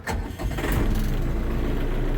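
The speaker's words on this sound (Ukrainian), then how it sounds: "заводимо, друзі, е, наш тракторець" The engine of a Scout TB-904 C tractor starts with a short cranking burst, then catches into a loud, close, steady rumbling idle. No one talks.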